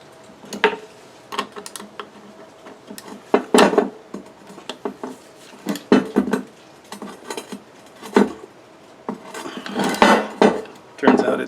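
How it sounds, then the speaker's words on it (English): Repeated sharp metallic clinks and taps from working a frozen shifter lever on a Borg Warner Quadratrac transfer case shaft, irregular bursts of tool-on-steel knocks close by, with no talking. "So the next task is to pull this shifter lever off the shifter shaft."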